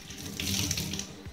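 Tap water pours steadily into a kitchen sink as tamarind is rinsed before soaking for an onion theeyal curry, a close, continuous splashing rush.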